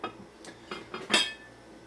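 A Visions glass cookware deep fryer pan is handled up close, giving four or five quick clinks and knocks of glass. The loudest knock comes near the end, then the sound settles into quiet with no voices.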